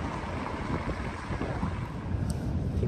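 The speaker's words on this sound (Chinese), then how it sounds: "听到了吗？ 大风是不是？ 没错，这里真的大风。" Strong wind buffets the microphone outdoors in Auckland city, a steady low roar and rumble running continuously without any talking.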